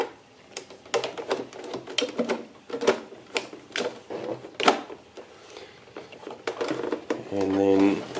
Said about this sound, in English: And then we will put the screws back in.